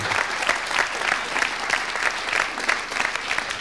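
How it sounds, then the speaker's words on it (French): Studio audience of a French television talk show applauds a guest. The clapping is even and moderately loud, with a steady rhythmic pulse, and runs throughout without speech. "Vous pouvez l'applaudir."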